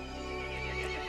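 A horse in the video game Resident Evil Village whinnies continuously, a strained, harmonic neigh with a steady low hum beneath it, loud and close, with no talking.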